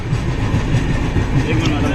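A steady, close rumble of a train rolling along the rails, with low rhythmic clatter throughout.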